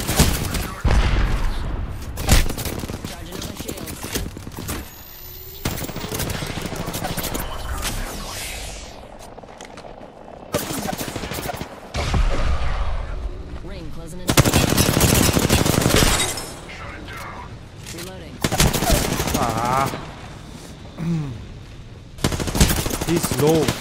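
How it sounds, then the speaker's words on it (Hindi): Apex Legends gunfire comes in loud automatic bursts and scattered single shots, broken by short quiet gaps, while a player talks over parts of the action. "गन से मार रहा है इतना यार"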